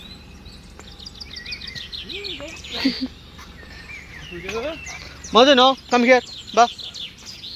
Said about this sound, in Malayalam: ഇവിടെ നല്ല പക്ഷികളുടെ സൗണ്ട് കേൾക്കും.